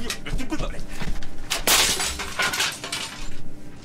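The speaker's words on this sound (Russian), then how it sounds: "Я экран разбил." A computer monitor screen smashed during an Elden Ring boss fight: a loud sharp crack and shattering burst near the middle, with clattering impacts and hum around it, close and harsh.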